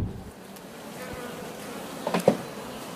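Bees buzz faintly over a quiet background, with a louder, closer burst of buzzing as one passes near toward the end.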